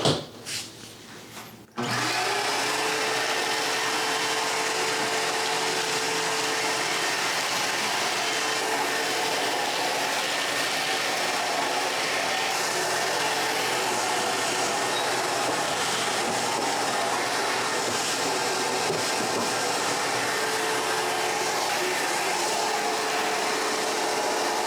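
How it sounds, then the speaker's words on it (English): Shop vac fitted with a dust separator bucket starting up after a short thump, then a loud, steady, close whining roar that holds unbroken throughout. "to test this out to see if it actually removes most of the dust particulates from the shop vac"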